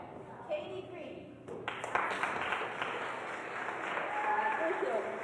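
Children in a concert audience at a Halloween symphony orchestra performance cheer and clap, a burst of applause and excited shouting rising after a quieter start and continuing under talk.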